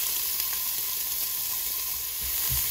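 Diced asparagus sizzling in a couple of tablespoons of oil in a pot over medium heat, a steady close crackling hiss with a few soft stirring bumps near the end.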